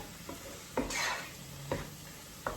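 Food sautéing in a pan gives a steady soft sizzle, marked by a few distinct utensil scrapes and knocks against the pan, close by with no voices.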